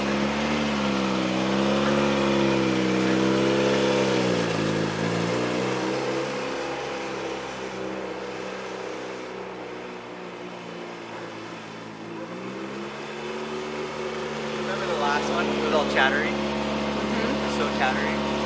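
A Toyota MR2 Turbo engine idles roughly, dips in pitch and rumble as the clutch engages, then revs back up as it pulls away, loud and close throughout.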